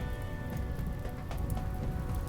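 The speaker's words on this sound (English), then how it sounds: "It's raining, so the fires are getting put out" Steady rain in the colony game RimWorld, a dense continuous hiss and patter with faint game tones underneath, no talking.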